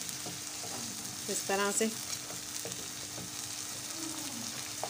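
Chopped tomato and green chillies frying in a pan for mixed dal, a steady soft sizzle with a few spoon scrapes while the mixture is stirred, and someone speaking briefly over it.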